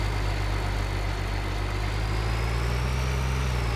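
Tractor engine in Farming Simulator 2013 drones steadily, a low continuous rumble that holds even and loud throughout, with no talk over it.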